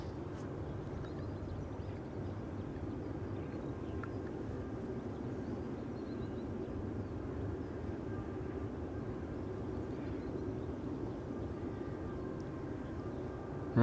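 Jet aircraft at Amsterdam Schiphol's Polderbaan runway, a 737 on the move, giving a steady, continuous low roar that stays even and fairly distant throughout, with no talk.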